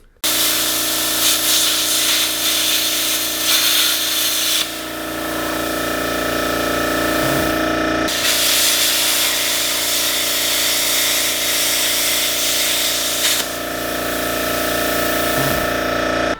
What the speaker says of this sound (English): So let's start up the compressor and see if it'll cut through.